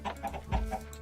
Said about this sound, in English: Oh, we did get obsidian chickens.